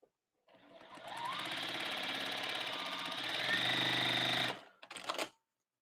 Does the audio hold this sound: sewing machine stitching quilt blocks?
yes